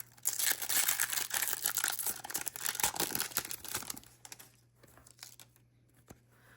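Magic: The Gathering Assassin's Creed booster packs are torn open, giving a burst of crinkling, ripping foil wrapper close up that tapers into quieter rustles and a few soft clicks.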